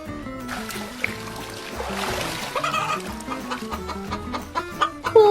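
Cartoon chickens clucking as they are carried off on a boat, with rapid agitated clucks and squawks over an animated music and effects bed, growing louder toward the end.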